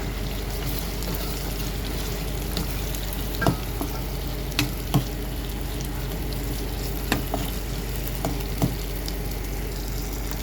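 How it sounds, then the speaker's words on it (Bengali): Chicken pieces fry in spiced oil for Bengali mashkalai dal, a steady close sizzle with occasional sharp clicks and knocks of a spoon stirring against the pan. "এখন এর মধ্যে আমি মুরগিটা ভাজার জন্য দিয়ে দিব।"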